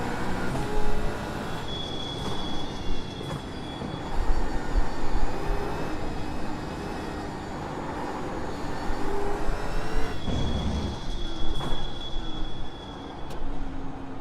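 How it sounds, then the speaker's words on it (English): A race car engine in the iRacing sim, a steady, dense drone with a constant high whine that runs through the whole stretch, swelling and easing slightly as if shifting and turning, loud and with no talk over it. "You can hear the car now, that's good"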